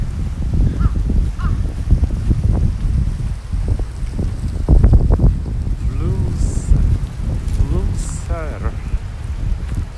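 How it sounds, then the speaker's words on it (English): Gusty wind buffets a microphone outdoors on a cold day among cypresses and blooming plum trees in Japan, a constant low rumble with louder thumping bursts around the middle, and a few faint goose-like honks and bird calls in the background. "gosh, it's windy, sorry, and cold."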